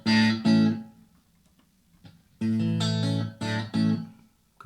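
Electric guitar through a Blackstar ID:Core 40 amp on the clean bright setting: sustained strummed chords, close and clear, two groups of ringing strums separated by a short pause.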